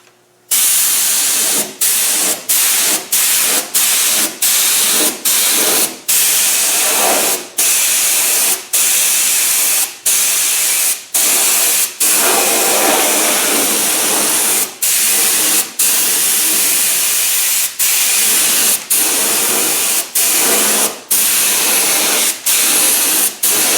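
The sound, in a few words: spray painting a repair on an aircraft air intake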